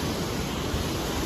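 A river rushes below a suspension bridge, a broad, constant roar of flowing water heard from above, steady and loud with no voices.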